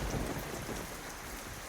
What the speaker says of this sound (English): Then it starts to rain harder.